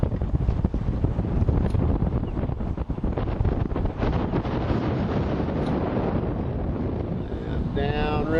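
Wind buffets a microphone aboard a boat on a river near Bonneville, a loud steady rumbling roar that lasts throughout.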